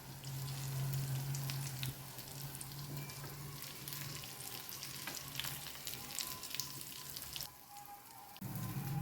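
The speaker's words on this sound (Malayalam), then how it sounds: "അതുപോലെ ഒരു 15 മിനിറ്റ് ഫ്രൈ ആയി വന്നോട്ടെ." Seer fish (neymeen) frying in hot oil for a Kannur-style fish mappas, a steady close crackling sizzle with a brief dip near the end before the sputtering returns.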